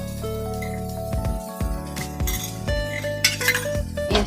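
Vangibath powder and salt being stirred into a pan for vangibath biryani, with repeated bright metallic clinks and scrapes of a utensil against the pan, fairly close and with no talking.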